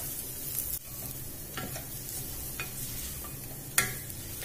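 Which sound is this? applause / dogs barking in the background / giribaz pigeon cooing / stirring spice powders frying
stirring spice powders frying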